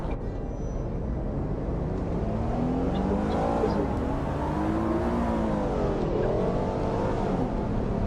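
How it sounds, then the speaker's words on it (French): A race car engine in a Roblox game drones and revs steadily, pitch sweeping up and down in a continuous, moderately loud tone with no talk over it. "Eh, c'est une voiture de course en fait"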